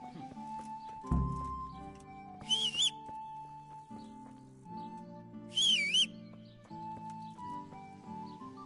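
A horse in the video game Kingdom Come: Deliverance whinnies twice over soft game music, each neigh a short wavering high cry; no talking.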